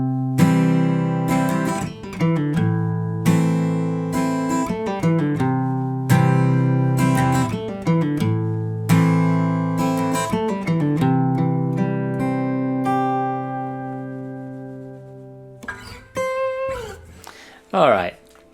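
A guitar lick played up to speed: quick plucked notes in phrases with brief gaps, ending in a few sharper string sounds.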